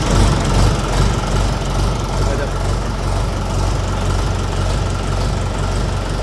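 Tractor engine idling in neutral on a farm, a steady low rumbling chug held throughout at close range, with a voice speaking over it.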